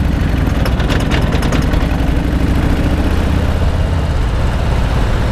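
A Harley Davidson Softail Heritage motorcycle pulling away, its engine a loud, steady, throbbing rumble that holds for the whole stretch, close up and with no voices.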